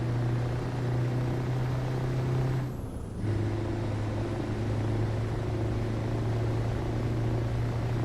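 A helicopter flies overhead in Euro Truck Simulator 2 with the Nordic Horizons map, a rotor whoosh sweeping past over the steady low drone of the truck engine, with a brief dip in the middle.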